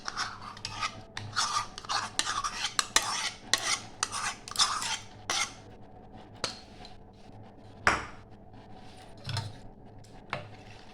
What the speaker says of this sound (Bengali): এবার দইটা আমি মেশাবো।